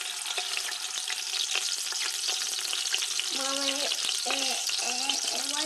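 Meat browns in olive oil in an Instant Pot on high sauté mode, with a steady, loud sizzle and frying crackle throughout and a few scraping stirs near the end.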